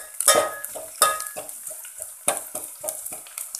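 Onions stirred continuously with a ladle in a pan, repeated scraping and clinking strokes at an uneven rhythm with a light sizzle underneath, close and fairly loud.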